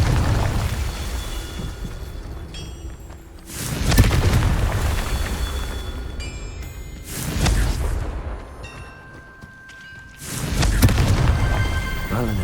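Confringo and Incendio spells burst in Hogwarts Legacy, three heavy booming explosions spaced several seconds apart, each a loud roaring blast that fades into crackling, with quieter ambience between them.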